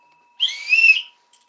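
A single shrill whistle blast sounds close and loud for about three-quarters of a second, then cuts off into silence.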